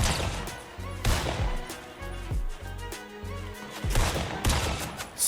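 Gunfire in a Fortnite match, repeated heavy shots and booming bursts at an uneven rhythm throughout, moderately loud, over steady game background.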